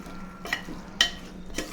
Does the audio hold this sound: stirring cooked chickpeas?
yes